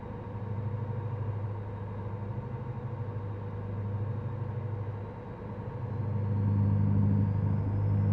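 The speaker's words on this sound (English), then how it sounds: "Wow, and the sound of the engine." A truck engine in American Truck Simulator rumbles steadily at a low, even idle-like drone, swelling slightly louder toward the end with no talking over it.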